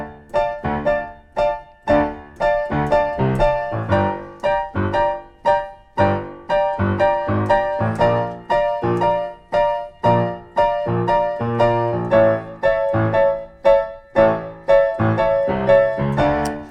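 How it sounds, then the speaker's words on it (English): Piano playing the left-hand bass line of a song under full chords, with steady rhythmic, clearly struck notes throughout and no talking. "there's this really cool bass line happening in the left hand on the recording."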